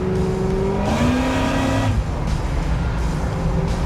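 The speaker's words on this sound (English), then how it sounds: "That was just whacking the throttle a little bit." A muscle car engine roars loudly and close by as the throttle is blipped, its pitch jumping up in a couple of quick revs before settling back to a rumbling idle.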